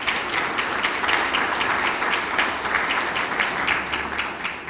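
A church forum audience gives steady, dense applause, many hands clapping together at an even level from start to finish.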